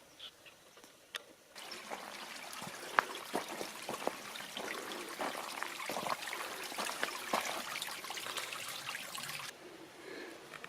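Stream water trickles and burbles beside an old Pomona water pump at a canyon trailhead, a soft continuous flow that swells in partway through and drops away near the end.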